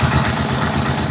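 Rusi Chariot 175 motorcycle engine running at idle, close and loud with a steady low rumble and pulsing rhythm, blowing hot air out through a tube.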